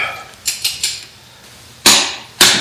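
Torque wrench tightening the steering column of an International Scout during restoration, a few sharp ratcheting clicks followed by two louder snaps as it reaches 40 foot-pounds.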